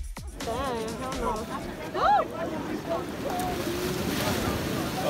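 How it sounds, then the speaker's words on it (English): Ocean waves wash and surge along a Hawaiian shore under gusting wind noise, with people's voices and exclamations running over the surf throughout. "Oh, look at this wave."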